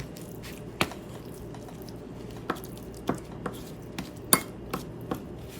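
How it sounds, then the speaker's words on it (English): A spoon scooping mayonnaise from a jar for crab imperial, with a series of sharp clicks and soft wet squishes spaced irregularly against a low background hum, no talk. "let's change spoons, get some of this mayo out of here"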